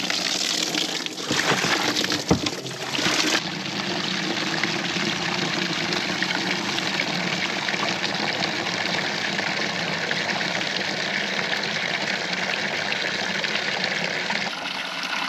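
Water gushing steadily from a barn cistern pump line after the float valve comes off, a loud, continuous broadband rush with a few brief splashy bursts near the start.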